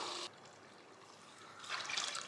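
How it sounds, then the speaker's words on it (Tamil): Measured water poured into a pot for cooking rice, a short trickling splash at the start, then quieter dribbling that swells into a louder, close pour near the end. "தண்ணி மெஷர் பண்ணி ஊற்றிட்டு சாப்பாடு போட்டுடலாம்."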